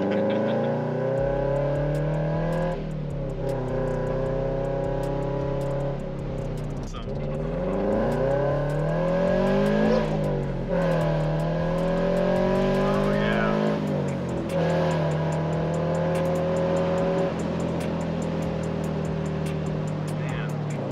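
Subaru BRZ exhaust under acceleration, heard from inside the cabin as a steady engine drone that rises and falls through several gear changes, with people talking over it throughout.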